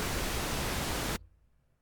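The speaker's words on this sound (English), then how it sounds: "pink noise" Steady, soft rushing hiss of synthesizer pink noise from SynthMaster 3, with a slightly darker, balanced tone, holds for just over a second, then stops abruptly.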